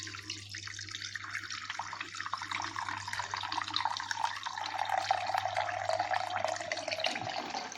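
Water from a kitchen tap pours and splashes steadily into a container for a household's pets, close by and fairly quiet, with a constant low hum beneath and no one speaking.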